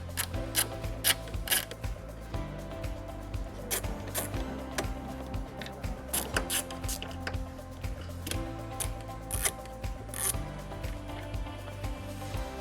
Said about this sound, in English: Using an 8mm socket, we're going to remove 2 screws that are located at the tail lights